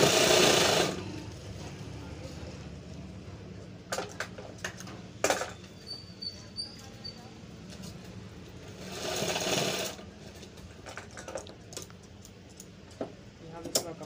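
A sewing machine stitches pant fabric in short intermittent bursts of rapid ticking, with pauses between runs and a person speaking at points.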